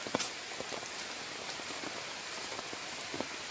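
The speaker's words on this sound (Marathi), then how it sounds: "बाहेर पाऊस पण बघा भरपूर लागतोय" Heavy rain pours outdoors in a steady, soft hiss of drops on surfaces, with a brief sharper tap near the start and no voices.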